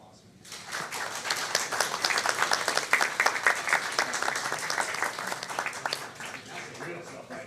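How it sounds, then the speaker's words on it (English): A room of people at a regular city council meeting breaks into a round of applause, many hands clapping in a dense sustained patter that swells and then tapers, with voices faintly underneath. "Let me get a round of applause."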